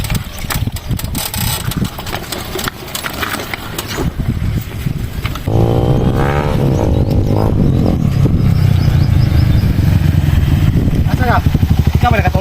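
A motorcycle engine idles and revs nearby, its steady rumble running under people talking throughout.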